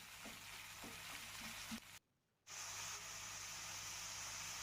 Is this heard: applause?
no